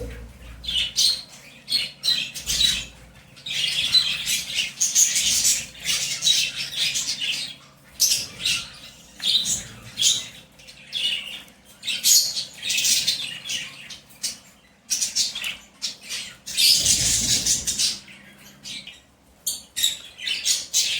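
Hand-tame pet birds in cages squawk and chirp excitedly at feeding time: repeated harsh, close calls in overlapping bursts, with short lulls between them and one especially loud outburst near the end.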